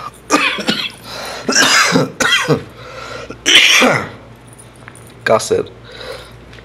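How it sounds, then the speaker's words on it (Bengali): A person coughs hard and close by in several rough, separate bursts and short fits spread across a few seconds, with brief quiet gaps between them. "কাশির সাইজটা দেখছেন?"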